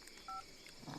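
A single phone keypad tone beeps briefly while a friend's number is dialed, a short, clear dual-pitched note over faint room noise, with no voices.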